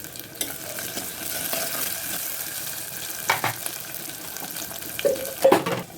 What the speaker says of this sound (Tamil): இப்போ வந்து வெங்காயம் நல்லா வதங்கி வந்திருக்கு.